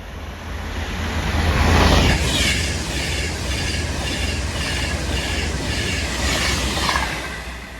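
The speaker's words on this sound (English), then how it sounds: "That batch pass through now is going to be a cross-country service running from Reading to Manchester Piccadilly." A CrossCountry passenger service from Reading to Manchester Piccadilly speeds through Marston Green station on the West Coast Main Line, a loud close rushing roar of wheels and carriages that swells early and holds steady, with no speech.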